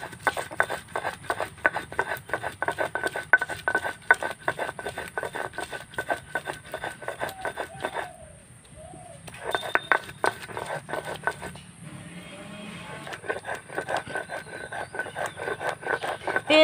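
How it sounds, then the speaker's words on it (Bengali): Onions and green chillies ground by hand on a shil-nora grinding stone while cooking hilsa, a steady rhythm of close, gritty rubbing and tapping strokes, pausing briefly midway before resuming. "পেঁয়াজগুলো আমি ভালো করে শিলনোড়াতে বেটে নিয়েছি"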